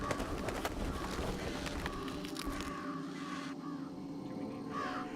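Crows caw in the game Jenny LeClue: Detectivu, with harsh calls mixed into a busy, steady bed of game sound that drops briefly near the middle before rising again.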